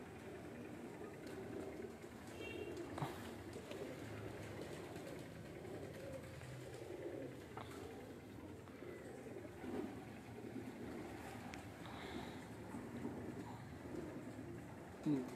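Pigeons coo from a rooftop at dusk as they settle for the dark, a soft, low, steady murmur of calls over constant outdoor background noise.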